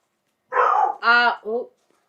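Three quick barks from a dog, close and clear, in a short burst followed by silence.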